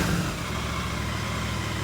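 A Royal Enfield Interceptor 650 motorcycle engine idles steadily at about 1500 rpm, running slightly rich, a low, even rumble, close by and continuous with no revving.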